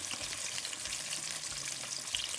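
Crispy-skin fried chicken sizzles steadily in hot oil after being turned over. The frying hiss is close and continuous, with a faint low clatter underneath and no talking.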